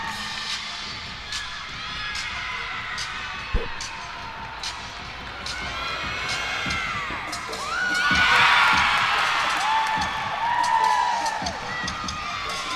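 A crowd at a college gymnastics meet cheers, whoops and shouts during a floor routine, swelling to a louder burst midway, while an announcer talks over the noise.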